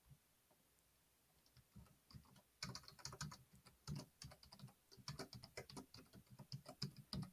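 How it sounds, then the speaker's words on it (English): Fingers typing on a computer keyboard nearby, a few scattered taps at first, then quick irregular bursts of crisp key clicks, quiet and close with no talk. "I just like typed my password"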